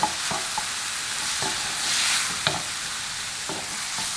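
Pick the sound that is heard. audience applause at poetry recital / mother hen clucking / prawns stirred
prawns stirred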